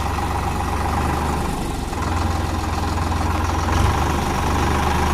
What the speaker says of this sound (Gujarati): રોહિતભાઈ ટ્રેક્ટર ચલાવી રહ્યા છે